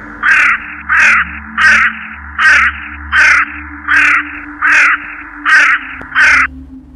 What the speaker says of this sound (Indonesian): ketiganya sudah disambut nyanyian beberapa burung hitam terbang mengitari atas rumah